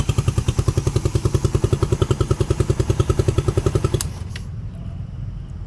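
A motorcycle engine that starts and runs by itself from a wet wire puts along close by at a steady, rapid idle, then abruptly cuts out, leaving a low background rumble.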